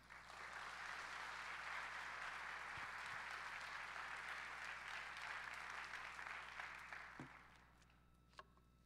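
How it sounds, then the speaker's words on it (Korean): A church youth service congregation gives a missionary a big welcome with sustained applause, a broad, even roar of many hands over a low steady hum that fades out near the end, followed by a couple of faint thumps. "우리 선교사님 나오실 때 큰 박수로 모시도록 하겠습니다"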